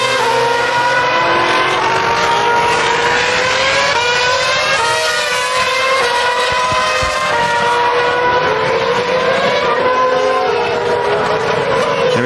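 BMW Formula One car driven by Robert Kubica at the 2007 French Grand Prix, a high-pitched engine whine sweeping through gear changes as it heads down toward the pit lane, loud and continuous with no voices.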